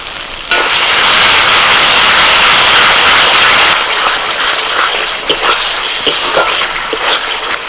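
Sour yogurt whisked with salt hits a pan of spice masala that has been frying for several minutes, setting off a loud, sudden burst of hissing sizzle that settles into a steady crackle with small pops.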